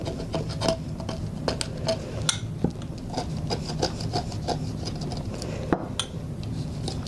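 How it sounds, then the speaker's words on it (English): Cured resin being scraped off the edges of a wine glass, producing repeated close, gritty rasping strokes and small scratchy clicks in an irregular rhythm. "scrape off the edges of the resin, wherever that is"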